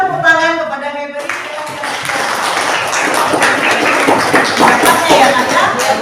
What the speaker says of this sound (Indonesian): berikan tepuk tangan kepada Heberi